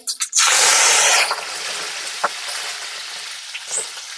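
Mustard seeds and cumin crackle and sizzle in hot oil for a Maharashtrian varan tempering, a loud, dense hiss near the pan that eases slightly after the first second, with a few sharp pops.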